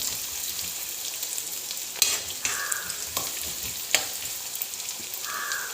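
Red onions and dried red chillies sauté in hot oil for a Kerala-style dal curry, a steady close sizzle broken by sharp scraping stirs and a few clanks of the spoon against the pan, with no voices.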